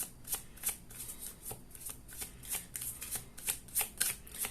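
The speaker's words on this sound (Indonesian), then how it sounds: "Ini saya kocok dulu ya kartunya" A deck of playing cards is riffled and shuffled in quick repeated bursts, crisp flutters recurring about every half second, close and clear with no talk over it.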